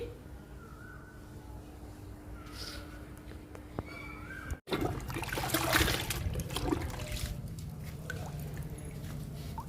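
Homemade leaf-based liquid fertilizer pours onto indoor ZZ plant and philodendron pots, with a quiet trickle and drip at first, then a louder splashing pour partway through, with no one talking.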